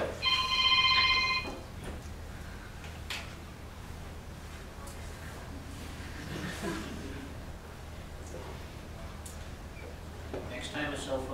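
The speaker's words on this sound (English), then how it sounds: "Next time a cell phone rings, I may or may not pick it up for you." A cell phone rings during a university lecture on database indexing, a brief bright electronic ringtone near the start, then fades under the lecturer talking through the rest of the room sound.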